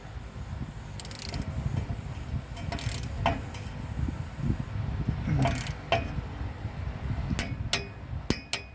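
Ratchet working on the rear differential cover bolts of a 1993 Ford F250, close metallic clicks and clanks in irregular bursts with tool knocks, no talking.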